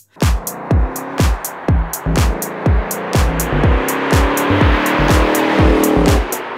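The powerful V8 engine of a 2024 Ford Mustang Dark Horse rumbles close up, with a regular series of sharp pulses as it revs and drives, loud and alone.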